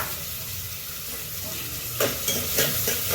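Onion frying in ghee in a pan gives a steady sizzling hiss, and a few sharper stirring scrapes come in over the last second or so.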